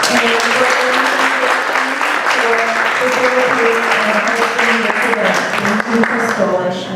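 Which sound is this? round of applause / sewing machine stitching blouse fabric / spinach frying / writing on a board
round of applause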